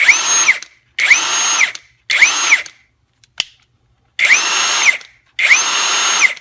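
Five bursts of a Rotake 1400 ft-lb cordless impact wrench whirring at high speed in forward and reverse, each about a second long with brief pauses and a sharp click between them, close by.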